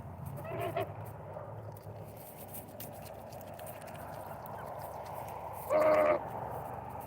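A pet goose gives a single loud, nasal honk near the end, standing out from a quiet, low background murmur that runs through the rest.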